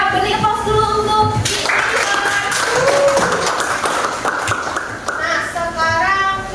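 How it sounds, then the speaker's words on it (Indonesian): A burst of clapping from students in a classroom, brisk and mid-distance, following a teacher's voice and fading as talk resumes. "beri aplaus dulu untuk"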